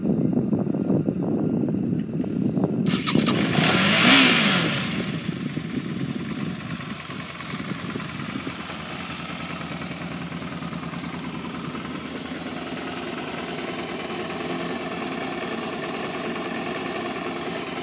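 A 2006 Suzuki V-Strom 650 motorcycle with 51,545 miles fires up close by, gives a brief louder rev, then settles into a steady, even idle that carries on alone for more than ten seconds.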